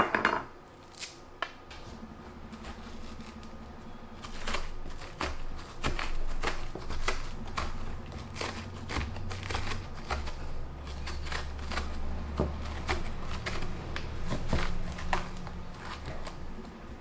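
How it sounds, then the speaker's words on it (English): Seeds are scraped out of a pumpkin for a rice and vegetable stuffing, with a steady run of close, sharp clicks, scrapes and knocks against the shell and bowl, irregular and busy throughout. "Now remove the seeds."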